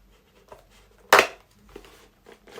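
A cardboard package box being forced open by hand, heard as one sharp, loud tearing rip of cardboard and tape amid softer rustles and handling noises nearby.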